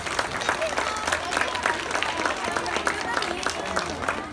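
A crowd applauds at a parade for International Day of Persons with Disabilities, clapping that holds steady and dense for several seconds with a busy crowd murmur beneath it.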